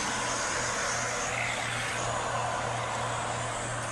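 A vehicle engine runs steadily during a police traffic stop, with a continuous low droning hum and broadband rumble, fairly loud and close, with no talking.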